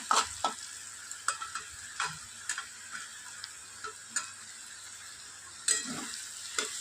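Egg fries in a pan with potatoes, a faint steady sizzle broken by repeated sharp scraping and tapping of a spatula stirring the mixture.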